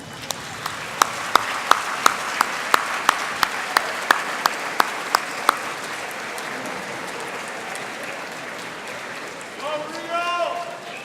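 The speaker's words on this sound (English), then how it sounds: "give your family, friends, and our faculty and staff a round of applause" Steady applause from a large crowd at a graduation commencement ceremony fills the space, with a few sharp single claps standing out early; a voice begins speaking near the end.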